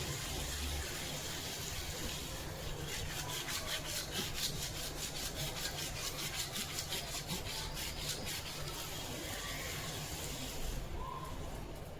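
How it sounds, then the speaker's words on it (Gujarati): Steady rubbing and scrubbing on a blackened copper kitchen utensil, a continuous abrasive scrape with a rhythmic back-and-forth pulse through the middle, close and fairly even in loudness throughout. "જુઓ જેમ જેમ ઘસું તેમ તેમ સાફ થાય છે."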